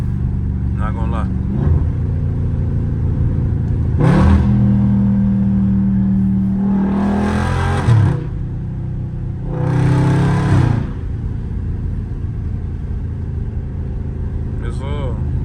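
A Dodge Scat Pack in track mode, its engine downshifting: loud, close throttle blips and revs that swell for a few seconds at a time over a constant interior rumble, with a short pause between the two main surges.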